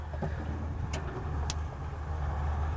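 A military vehicle with two engines manoeuvres near the Dnipro shore, its engines giving a continuous low rumbling drone with a few sharp clicks, close and steady, with no one talking.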